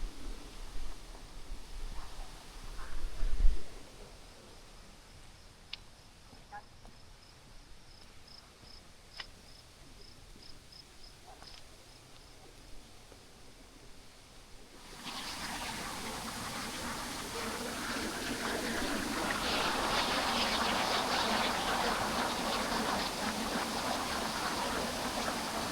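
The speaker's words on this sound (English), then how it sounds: "I hear the waterfall." A waterfall's broad rushing roar swells in from about halfway through after quieter stretches of chirping crickets and insects outdoors on a prairie walk.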